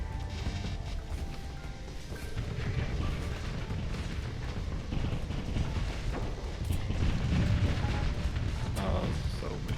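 Missiles detonating in a Starsector space battle, a dense rumbling wash of overlapping booms and bursts that swells toward the end, with faint talk underneath.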